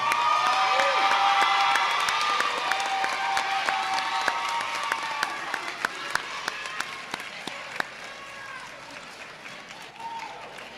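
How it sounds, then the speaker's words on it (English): Parents and guardians at a high school graduation ceremony get a long round of applause from the crowd, a dense wash of clapping with scattered cheers and shouts that slowly tapers. "please stand and give yourselves a round of applause."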